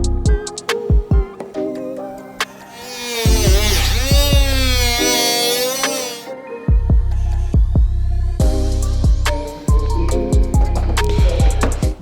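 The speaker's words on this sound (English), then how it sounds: "Try using a Sawzall" A Sawzall reciprocating saw cuts through the bumper of a turbo V6 Honda Accord in loud, throbbing bursts with short pauses between them.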